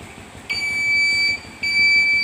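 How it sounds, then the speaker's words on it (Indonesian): A motorcycle side-stand alarm sounds with the ignition on and the stand down, giving high electronic beep tones in two long bursts separated by a short gap over a low background hum. "maka alarm akan berbunyi."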